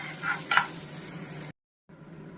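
Fennel seeds and spices fry in a pan with a faint low sizzle and a couple of brief stirring scrapes, quiet and close, then a short cut to silence.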